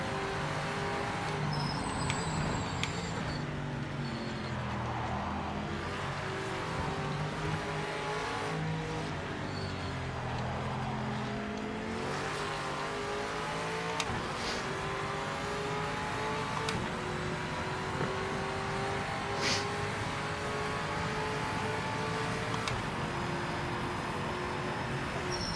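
Race car engines in the Project Motor Racing video game rev and downshift steadily, several cars droning together at a constant moderate level with occasional tire squeals and no voices.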